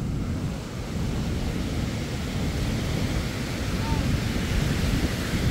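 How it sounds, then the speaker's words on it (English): Ocean surf at a beach during a low tide walk, a steady broadband wash of breaking waves and wind rumble, close and continuous throughout. "Dom, can you hear the ocean?"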